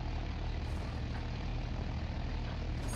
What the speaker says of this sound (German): Aber vom Auspuff her ist der viel zu laut.